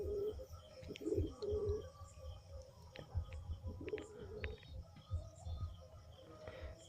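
Madrasi pigeons coo nearby in soft, repeated throaty calls, with occasional chirps and light rustling in the background.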